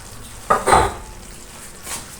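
A pot of carrot murabba on a gas stove gives a couple of sharp metallic clinks and a scraping stir close by, then fainter rattles against a quiet background.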